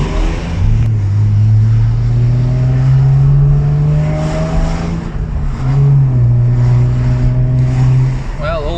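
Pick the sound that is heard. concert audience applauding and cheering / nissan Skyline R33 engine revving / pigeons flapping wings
nissan Skyline R33 engine revving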